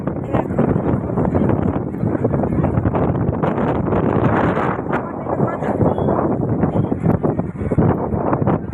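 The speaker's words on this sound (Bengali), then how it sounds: "প্রচুর হাওয়া হচ্ছে, প্রচুর।" Strong wind buffets the microphone in a steady, loud roar on the beach at Digha, with voices talking over it throughout.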